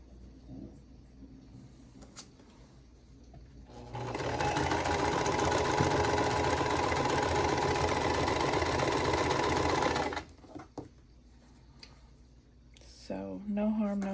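A sewing machine stitches a quarter-inch quilt seam in one steady, loud run of about six seconds, with quiet moments and brief talk before and after.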